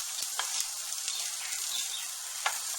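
Dandelion roots roasting in a pan on the stove give a steady, fairly quiet sizzle with faint crackles and a few brief pops throughout.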